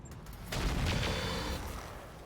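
A volley of SRM-2 missiles launches in the RogueTech BattleTech video game, a brief rumbling salvo of overlapping blasts that swells and holds for about a second before fading.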